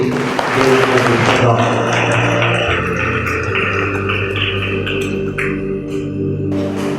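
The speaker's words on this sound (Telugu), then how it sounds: "మిమ్మల్ని అభినందిస్తుండగా గట్టిగా చప్పట్లు కొట్టి" A church congregation claps loudly, a dense and continuous round of applause that stays strong throughout, with voices mixed in.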